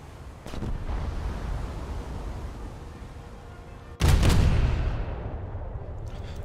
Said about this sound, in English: Now to deal with all this coastal artillery.